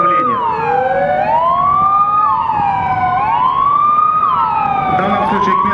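A loud emergency siren wails up and down close by as an ambulance arrives at a rescuers' and medics' drill at a seaport. The tone rises and falls in repeated cycles over a steady engine rumble.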